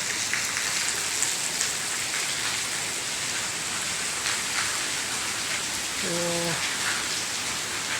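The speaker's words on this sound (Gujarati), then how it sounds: "આજે તો વરસાદ જોરદાર પડી રહ્યો છે" Heavy rain pours steadily in Ahmedabad, a dense, even hiss of drops on surfaces throughout, with a brief voice and a short tonal sound near the end.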